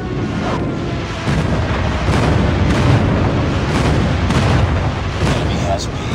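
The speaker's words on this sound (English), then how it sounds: "Enemy airstrike incoming." Airstrike explosions in a shooter video game arrive as heavy, rumbling booms that overlap into a dense, loud barrage, with faint voices in the background.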